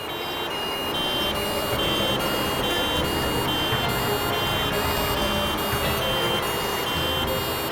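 A steady, continuous electronic ambulance siren with repeating high-pitched tones over rumbling traffic noise, loud and sustained throughout.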